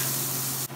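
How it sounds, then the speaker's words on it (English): Onion and garlic sweat in a hot pan with a steady, loud hiss and sizzle that cuts off abruptly near the end, with a low hum underneath. "We're going to sweat our onion and garlic now."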